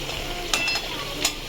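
Nigella seeds dropped into hot oil over already fried potatoes, giving a steady close sizzle with light stirring and two brief bright crackling bursts.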